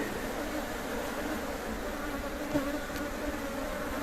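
Honeybees in a homemade horizontal Langstroth hive make a dense, steady buzz during a hive inspection. The drone is close and even throughout, with no talking over it.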